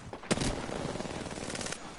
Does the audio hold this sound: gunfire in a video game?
yes